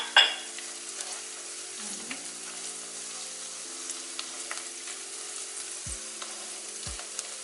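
Rice dish with soy sauce and cinnamon frying in a pan, a continuous close sizzle with scraping stirring strokes and occasional clinks of the utensil against the pan, no talking.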